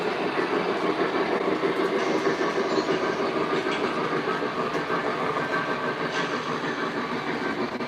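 A model train engine, an MTH locomotive, rumbles steadily along a track with a continuous clattering drone at moderate volume, no voices, running for the whole stretch.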